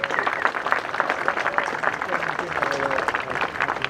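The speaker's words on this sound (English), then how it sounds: "Give him a cheer and a wave and a clap." Festival onlookers on a jetty clap and cheer for the owner and pilot of the K3 boat, a lively spread of clapping that keeps going for four seconds while a voice talks over it.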